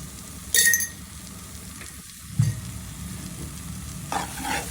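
Taro greens (kochu shak) being stirred and fried in a pan, a steady soft sizzle broken by three scraping, clinking strokes of the spoon against the metal.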